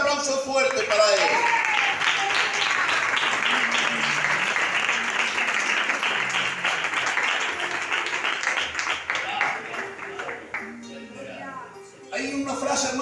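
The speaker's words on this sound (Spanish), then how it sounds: "dale este aplauso fuerte para Él" A church congregation gives loud, sustained applause during a sermon, a dense wash of clapping lasting most of the time before fading, with voices joining near the end.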